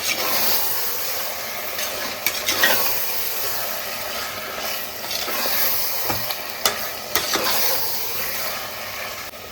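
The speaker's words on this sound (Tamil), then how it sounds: "லெக் பீஸ் ஆட் பண்ணதுக்கப்புறம் உடையாம அப்படியே கிண்டி விட்டுக்கலாம்" A pot of chicken biryani with leg pieces sizzles as it is stirred, producing a steady hiss broken by a few scraping and clattering knocks from the spoon, and no speech.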